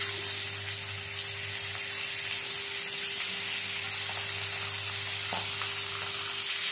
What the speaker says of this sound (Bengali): মাছগুলো তুলে নিয়ে আবারও এই তেলের মধ্যে দিয়ে দেবো মাছ।